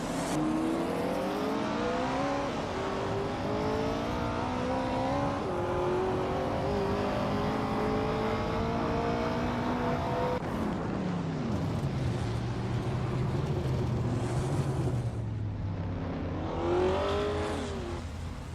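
Race car engines in a racing video game whine steadily for the whole stretch, pitch bands climbing and shifting as cars battle nose to tail, then one engine drops low and rises again near the end, loud and continuous.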